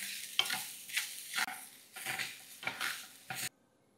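Coarsely pounded cowpea mixture with grated potato is sautéed in a pan, quiet sizzling overlaid by about six rhythmic scraping strokes of a spoon against the pan, ending abruptly in silence.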